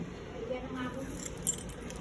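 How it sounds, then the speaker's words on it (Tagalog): A set of villa room keys jangles briefly at a budget resort in Zambales, a short metallic rattle under nearby chatter and room noise. "Ito ba yung susi namin?"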